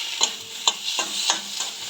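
Chili powder and spices sauté over low heat in a pan for a puti fish curry, and a spatula scrapes through them in four or five quick strokes over a soft, steady sizzle, close and alone.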